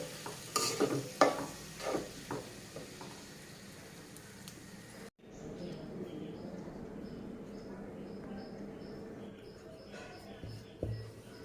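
Vegetable roll filling seasoned with cumin powder, garam masala and turmeric frying in a pan, with a steady sizzle and scraping stirs and an abrupt break midway.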